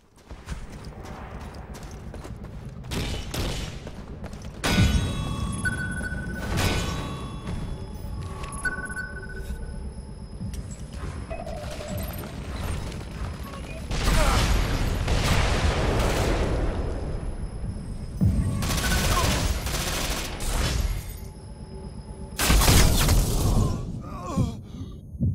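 Gunfire crackles in Ghost Recon Online on the Tomsk 9 map, with scattered bursts and single shots heard at moderate distance over ambient game sounds and interface tones.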